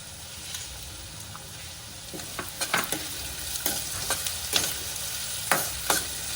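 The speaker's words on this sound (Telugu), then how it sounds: "ఇప్పుడు నేను ఆనియన్స్ వేగడానికి కొద్దిగా ఉప్పు వేసుకుంటున్నా." Onions frying with a pinch of salt in a pan for chicken ghee roast, a steady close sizzle broken by several sharp scraping stirs that grow more frequent toward the end, with no talking.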